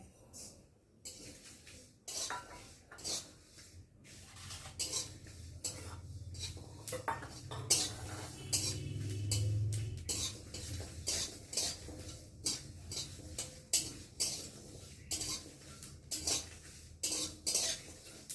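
Black cumin, dried chilies and garlic frying in a wok, stirred with a metal utensil that scrapes and clinks in a steady rhythm over a low, soft sizzle, close by and fairly loud.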